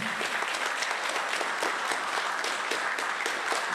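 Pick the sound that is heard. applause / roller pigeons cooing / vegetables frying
applause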